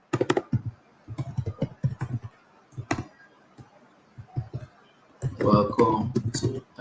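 Rapid keyboard clicks while typing TypeScript code, coming in short bursts with pauses between them. Someone talks over much of the typing.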